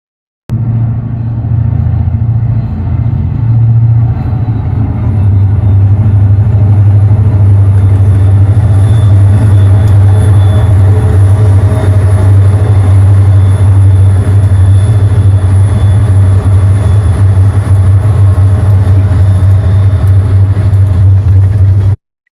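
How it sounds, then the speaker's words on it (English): A train passes near Trona with a loud, steady low rumble and engine drone that holds evenly for over twenty seconds, with no voices. "The train."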